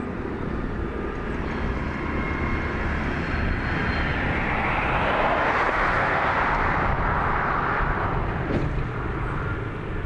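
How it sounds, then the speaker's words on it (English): A United airliner taxis at Dublin Airport, its engines giving off a continuous, fairly loud roar and hiss that stays even throughout, with no voices over it. "So United are gonna taxi on the runway."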